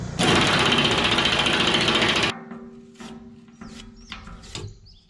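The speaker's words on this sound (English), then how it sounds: "I'm trying to use this little steel brush to pull outward against it" Steel wire brush scraping hard on a Komatsu excavator fuel tank: a loud, harsh, continuous scrubbing burst for about two seconds, then quieter scattered metallic clicks and taps.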